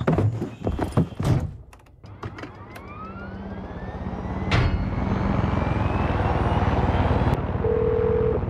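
A helicopter in the video game Far Cry 6 follows a short burst of thudding hoofbeats. Rotor chop and engine whine swell steadily and stay loud and close, and a rising whistle cuts across.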